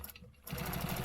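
A sewing machine stitching fabric starts up after a brief pause and runs in a fast, steady, rhythmic whir with a rapid needle patter, close and clear.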